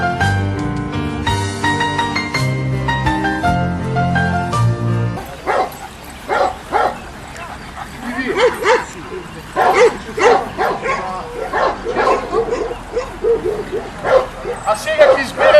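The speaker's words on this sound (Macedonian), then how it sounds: "од овие три кучиња, ќе избереме најубаво караманче во категорија од 3 до 6 месеци" Young Macedonian shepherd dogs (karaman puppies) at a dog show, a run of yips, barks and whimpers in the second half after a stretch of music, with people talking nearby.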